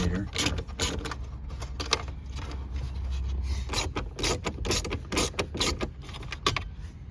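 Small 7mm screws come out of a 2010-2012 Ford Taurus dash with close ratcheting clicks, scrapes and metallic handling noises in an irregular rhythm, plus a low hum.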